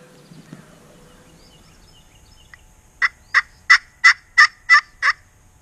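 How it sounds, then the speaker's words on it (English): Wild turkeys gobbling back to a call during a Nebraska spring hunt: a run of seven sharp, evenly spaced gobbles at fairly close range, loud and clear over a quiet outdoor background after a few faint earlier calls. "But got them pretty good over there, gobbled back to my call"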